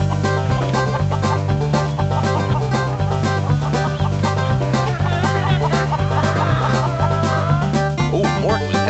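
Cartoon chickens clucking at a party in the PlayStation game Mort the Chicken, busy overlapping clucks riding on a loud, steady bouncy music track with a thumping bass beat.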